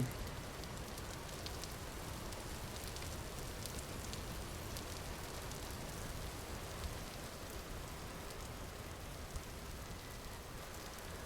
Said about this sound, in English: It rains constantly here